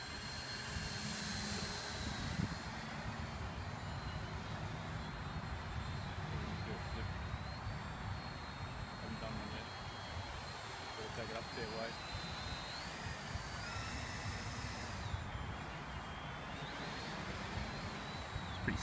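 A Turnigy MultiStar Suicide 450 quadcopter with 690kV motors, 30A SimonK ESCs and a KK2.1HC board flies outdoors, its steady propeller whine holding at moderate level throughout while people talk over it.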